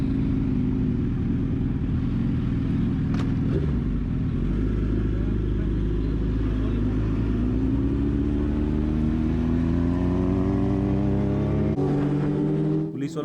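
Suzuki Hayabusa 1300 motorcycle ridden on a morning road, its engine roaring steadily up close with a long rising rev through the gears and a drop near the end, a voice speaking briefly over it.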